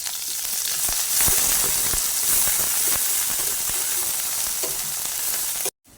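Garlic and chopped onions frying in oil in a wok, a loud continuous sizzle and hiss with spatula clinks and stirring, cutting out abruptly near the end.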